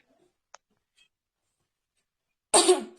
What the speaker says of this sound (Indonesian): maaf kalau ada batuk-batuk dikit gitu